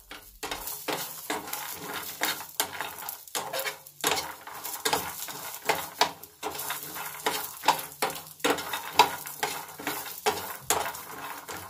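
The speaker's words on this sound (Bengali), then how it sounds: "এরপর খুব অল্প তাপ দিয়ে বাদামগুলিকে বেশ সুন্দর করে ভেজে নেব।" Nuts toasting in a pan over low heat give a soft sizzle under repeated scraping and clinking as a utensil stirs them, with irregular knocks against the metal.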